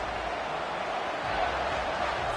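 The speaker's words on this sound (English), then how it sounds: "Here comes this home crowd as the defense tries to get off the field on 3rd down." Home crowd roar in College Football 25 during a Florida vs Tennessee third-down defensive stand, a dense, steady wash of cheering that fills the whole stretch without letting up.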